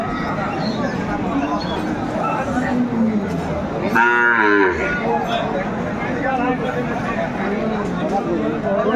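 A cow moos loudly midway through, amid a busy crowd with constant chatter and voices all around, at a cattle market where Sahiwal cows and calves are being bought and sold.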